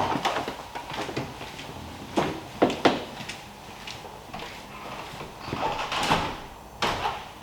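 Door opening toward the kennel block of an RSPCA animal rehoming centre for dogs and cats, with several soft knocks and clunks over a few seconds against a roomy background hiss.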